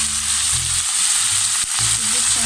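Peas and carrots fry with minced garlic in a pan, giving a loud, close, steady sizzle with faint stirring scrapes underneath throughout.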